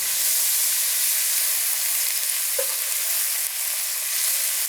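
Gentle, steady sizzle of aromatics and vegetables with toasting nutmeg sweating in a pan for pumpkin sage risotto, a soft continuous hiss close by with a brief stir midway.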